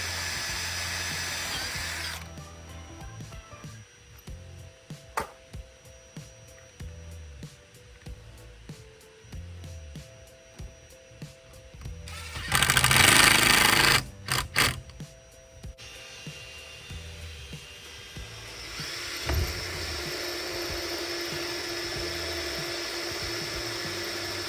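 Power drill driving 18mm sheet metal screws through a flyscreen frame, heard as several short whirring bursts separated by pauses, one louder and longer burst near the middle, close by with no talk.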